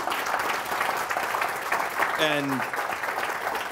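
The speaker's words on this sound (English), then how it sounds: "Let's give a round of applause" A room full of people applauds after a talk on geological net zero, a sustained wash of clapping throughout, with a voice briefly speaking over it partway through.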